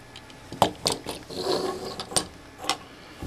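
An Animated Cybertron Mode Optimus Prime toy figure being transformed gives a handful of sharp, close plastic clicks and ratcheting snaps, with a brief rubbing swivel between them and no talking.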